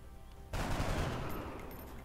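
A sudden volley of gunfire from shots taken in XCOM Enemy Within breaks out after a brief quiet start and rolls on loudly and densely to the end, with no talk.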